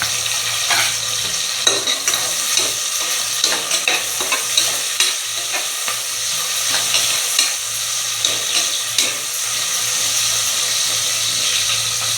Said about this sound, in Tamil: வெட்டி வச்சுருக்க வெங்காயத்தை போட்டுக்கணும்